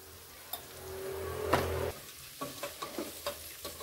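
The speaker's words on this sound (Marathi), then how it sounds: "तोंडली छान फोडणीमध्ये मिक्स करून घेऊया." Half a kilo of ivy gourd (tondli) with salt is stirred in hot tempering in a pan: a brief steady sizzle, then a run of rhythmic scraping stirs, close and fairly quiet.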